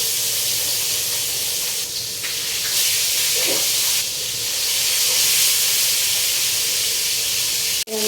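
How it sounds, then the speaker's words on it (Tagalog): Fish frying in hot oil in a home kitchen, a steady loud sizzling hiss that runs almost unbroken throughout, with a brief sharp break near the end. "prituin na lang natin ang isda"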